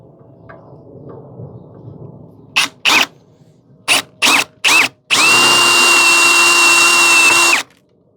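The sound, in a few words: step drill drilling out a rivet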